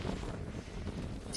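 Cold wind buffets the microphone at a beach in Rome, a steady broadband rumble of gusts with a faint brighter rush near the end and no talking.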